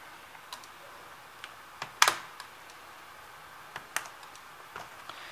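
The keyboard of a Multilaser Legacy laptop is pried out of the case, giving sparse plastic ticks and clicks with one louder snap as a latch releases.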